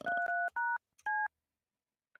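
Telephone keypad tones beep in four short, clean bursts, followed by a brief faint blip, close and alone with no talking.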